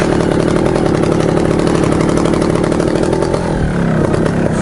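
A trials motorcycle engine revs steadily and loudly, a low throaty drone with rapid firing pulses that dips slightly near the end.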